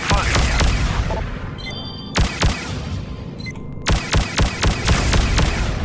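Spaceship guns shooting at mines in the space game Darkstar One: a series of sharp, loud shots, some spaced apart and some in quick bursts, with short electronic blips between them and no talk.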